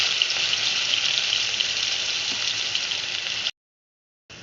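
Garlic and onion paste fries in oil in a pan that has just held fish, giving a steady, fairly loud bright sizzle that cuts out briefly near the end before resuming.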